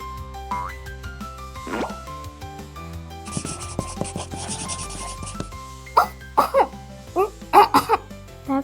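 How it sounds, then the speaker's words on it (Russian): During a pretend medical check-up with toys, a voice gives several short, dry coughs near the end, after soft rubbing and handling noises. "Сухой кашель."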